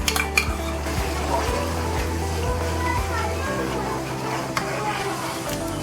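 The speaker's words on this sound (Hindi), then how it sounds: "अभी हम इसमें डालते हैं सबसे पहले थोड़ा सा दही।" A spoon stirs yogurt into a cooking pot while vegetable pulao is being made, giving soft scraping and clinking against the pot under steady kitchen background noise, with a voice talking over it.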